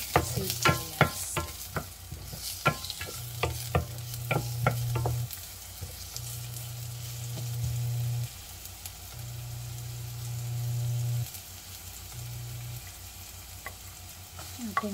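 Onion sautéing in a little oil in a pan for a tofu dish with ketchup sauce, a continuous soft sizzle broken by repeated scraping and clacking of a utensil stirring, with a low steady hum underneath.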